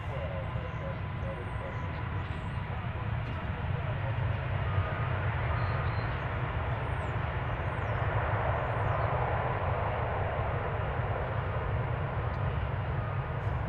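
A Boeing Dreamliner airliner departs DFW airport with a steady, broad jet roar and deep low rumble that holds level throughout, with voices nearby.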